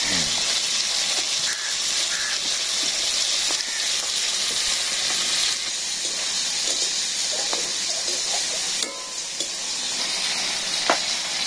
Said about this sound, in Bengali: মাছ ভেজে নিলাম